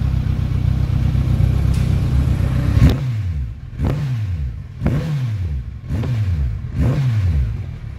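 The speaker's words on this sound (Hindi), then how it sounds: "यासिर भाई अभी थोड़ा थ्रॉटल करके दिखाएंगे कि आवाज़ एग्जैक्टली कैसा आ रहा है" A Kawasaki Ninja 1000 fitted with an Akrapovic exhaust idles loudly nearby, then snaps through about five sharp, evenly spaced throttle blips, each rising and falling quickly.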